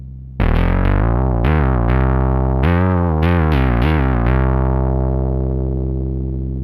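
A buzzy, distorted synth note with its filter cutoff and pulse width modulated by noise pulses through a choppy sequence of bright, stuttering bursts, then sustains and slowly fades, loud and up front with no voice.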